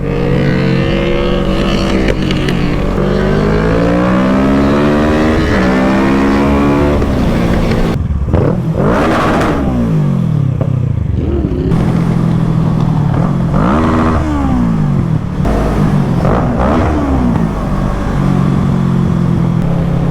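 A Honda CBR 600RR motorcycle revs hard over and over, rising and falling engine whine, loud and close, with sharp crackling bursts as it shoots flames.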